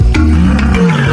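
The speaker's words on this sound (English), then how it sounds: "A big cat's ability to roar." A big cat lets out a loud, deep, rumbling roar that is close and sustained across the short clip, with no talk over it.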